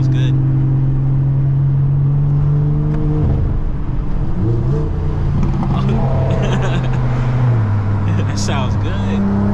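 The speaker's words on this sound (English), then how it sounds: "the idle, the low RPM sounds good" A BMW F10 with a 400 hp engine idles at low revs in the snow, a steady deep droning hum holding for the whole stretch while someone talks over it.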